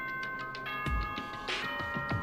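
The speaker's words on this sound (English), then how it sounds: "Ding dong, ding bong." A ding-dong announcement chime from the video game Danganronpa: Trigger Happy Havoc, a short two-tone bell heard near the start and again around the middle over a faint game background, with no talking.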